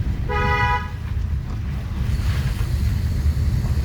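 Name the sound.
car horn honking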